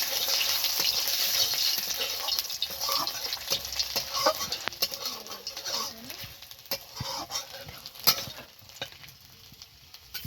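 Panch phoron and ginger frying in a pan: a continuous bright crackle and sizzle with scattered spoon taps and stirring, close and moderately loud, no talking.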